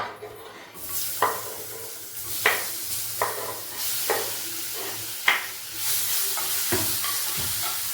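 Cut banana for banana adai cooks in a pan with a steady sizzle, while a spoon stirs it in repeated scraping strokes about once a second, close and clear with no talking.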